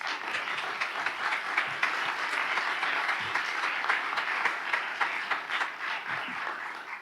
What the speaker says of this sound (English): I now invite the audience to give these four candidates an enthusiastic round of